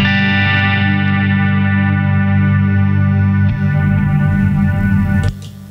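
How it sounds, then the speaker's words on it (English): Sustained electric guitar chords washed through a TC Electronic Trinity ambient reverb pedal, a long shimmering wash holding steady, then cut off abruptly near the end. "That was the TC Electronics Trinity reverb"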